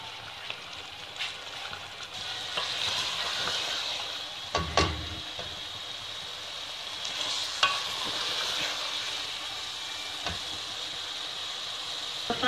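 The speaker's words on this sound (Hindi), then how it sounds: "इसे हम फ्राई कर लेंगे" Chana frying in oil in a pan for biryani, a soft steady sizzle with occasional stirring scrapes and clinks, heard alone at close range.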